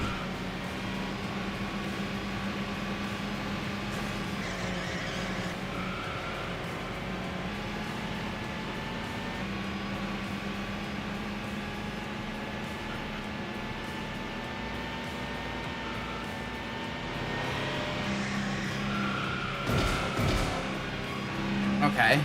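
A Pagani Zonda supercar races in a street challenge video game, its engine droning steadily with rising tones as it accelerates, while someone talks over it throughout.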